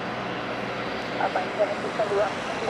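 An airliner roars steadily at Madeira Airport during a landing or takeoff, a broad engine rumble heard at a distance, with faint voices and brief chirps over it.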